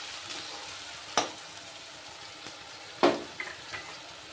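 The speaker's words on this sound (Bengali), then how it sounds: "এবার আমি টমেটো আর পেঁয়াজ বাটাটা দিয়ে দিলাম। এবার এটা দিয়ে একটু ভালো করে নেড়ে নেব।" Onion and tomato paste frying in a pan while being stirred, a low steady sizzle with a few sharp scraping strokes of the spoon standing out, fairly close and alone without talk.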